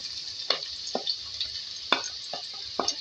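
Medium chopped onions fry with black cardamom, black pepper and cloves for a hotel-style chicken gravy, a soft steady sizzle broken by a few scraping stirs of the spoon in the pan.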